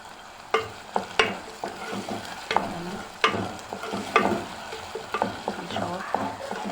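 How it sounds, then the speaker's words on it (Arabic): Onion frying in hot oil in a pot for sayadiyah rice gives a steady close sizzle, broken by repeated sharp clacks and scrapes of stirring at an uneven rhythm, with no talking. "سخنا الزيت، هنا هننزل على بصلاية حلوة"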